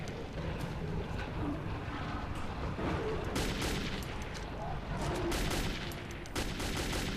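Dense bursts of gunfire in the Metro 2033 shooter, sustained rapid shots layered over a constant loud battle din, with no pauses throughout.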